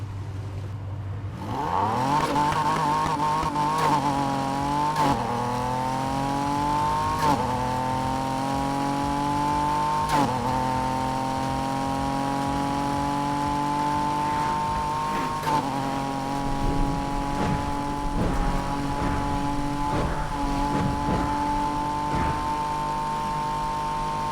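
A Porsche 911 RSR with a 3.6-litre engine in the racing game Need for Speed Heat revs hard and continuously, its pitch climbing in repeated steps as it shifts through gears, loud and close.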